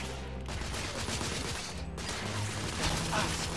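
Gunfire from snipers in The Order: 1886 crackles and thuds in a dense, steady barrage, close and loud, with a couple of sharper cracks standing out.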